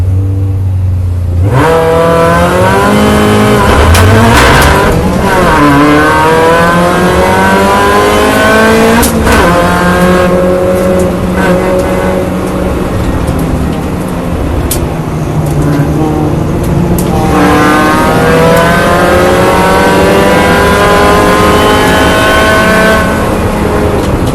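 Loud Mini Challenge race car engines roar and rev as a pack accelerates at a race start, with rising engine pitches layered over each other and a commentator talking throughout.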